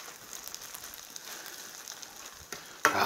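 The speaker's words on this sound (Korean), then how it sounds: "아, 소리도 지글지글 나고" Quiet, steady sizzling of fried rice with dakgalbi seasoning frying in a pan, a soft crackle throughout, ending with a sharper clatter.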